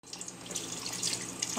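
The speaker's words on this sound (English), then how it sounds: "let's add a little bit more water." Water runs from a tap into a pot of cabbage rolls being cooked, a soft, close trickle and splash that builds slightly over a moment, with no talking.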